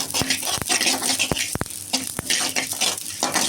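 White and black sesame seeds dry-roasting in a pan for idli podi: steady soft crackling patter with repeated sharp clicks of a spatula stirring against the metal, no voices.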